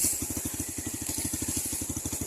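A motorcycle idles nearby on a cattle farm, its engine chugging in a steady, rapid, even rhythm of low pulses with no voices.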